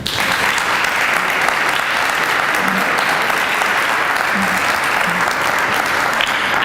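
Audience at a city's State of the City address applauding its staff, a sustained, dense round of clapping from a sizable crowd that holds steady throughout.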